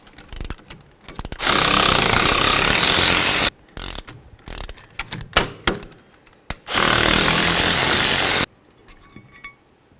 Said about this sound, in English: Now the next thing we need to do is remove our caliper bracket bolts.